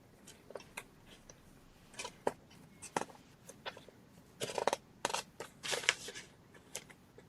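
Someone rummages through a pile of papers at close range: scattered rustles and crisp flicks of sheets come in irregular bursts, quiet at first and then denser, with no talk.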